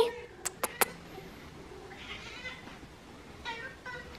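Domestic cat meowing indoors: a few sharp clicks early on, then several short, fairly faint meows spread across the rest of the stretch.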